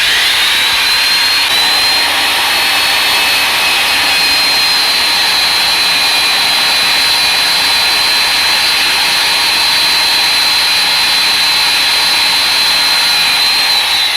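A vertical band saw cuts metal with a loud, continuous high-pitched whine and grinding hiss, holding steady and close for the entire stretch without pauses.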